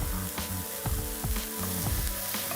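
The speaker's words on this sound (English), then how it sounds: "So I'm gonna go ahead now and add in our ginger and garlic paste." Ginger and garlic paste sizzles hard in a hot pan, a close, dense crackling hiss with quick bubbling pops and a few soft stirring knocks throughout.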